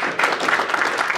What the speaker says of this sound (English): Round of applause for Chippy, ladies and gents.